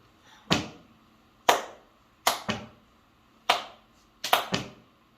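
A single pair of hands claps out a rhythm during a church choir's beat lesson: six crisp, close claps, unevenly spaced, two of them in quick succession, with silence between.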